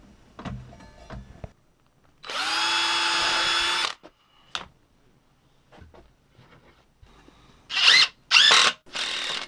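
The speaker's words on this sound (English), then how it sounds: "just screwing the frame together with 100mm screws" A power drill drives long 100mm screws into a pallet wood frame in short whining bursts, one long steady run followed later by several quick pulses, close up with faint knocks between.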